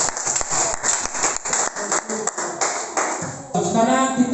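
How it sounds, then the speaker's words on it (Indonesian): Audience applause at a group presentation session, a burst of clapping from a modest crowd with distinct claps over a busy room, shifting near the end into a tonal, ringing noise. "berikan tepuk tangan buat Ibu."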